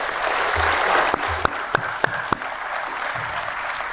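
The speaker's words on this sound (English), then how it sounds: "I'm sure you'll all join me in giving them a very handsome round of applause" Audience applause at a Supreme Court Lok Adalat ceremony, a steady broad wash of clapping from a seated crowd with a few sharp individual claps standing out near the middle, no voices over it.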